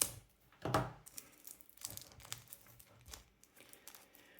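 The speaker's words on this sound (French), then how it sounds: "Je m'excuse pour les bruits d'ouverture de papier" Paper wrapping on a Ghost in the Shell SAC_2045 Season 1 collector box set tears open in one loud, close rip, followed by softer crinkling and rustling handling noises.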